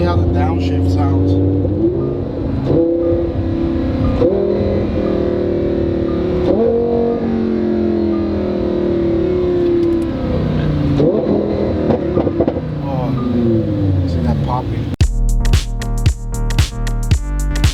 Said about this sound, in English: Let's see how the downshift sounds.